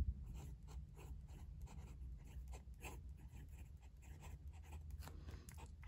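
A fountain pen with a medium steel number 6 nib and Diamine ink writing on paper: quiet, close scratchy strokes in an irregular rhythm of short scribbles and pauses, heard alone.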